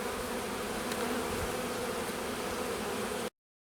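Honey bees swarming around an open hive during a spring inspection, a dense continuous buzzing hum close by, steady and loud, then cutting off abruptly.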